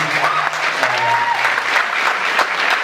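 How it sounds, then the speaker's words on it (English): Audience clapping for the performers at a recovery gig, a steady burst of applause with a few voices and tonal sounds mixed through it, close and fairly loud across the whole moment. "give yourselves a round of applause"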